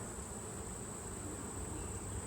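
Honeybees hum steadily at close range in a queenless colony opened during an October inspection of combined hives, a faint, even drone with no voices.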